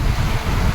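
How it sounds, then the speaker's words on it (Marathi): Heavy monsoon rain and a strong wind storm in the ghats near Chiplun on the Konkan coast make a loud, steady, close roar of broadband noise with rumbling gusts, and no one speaks. "वारा वादळासकट पाऊस आहे जोरात"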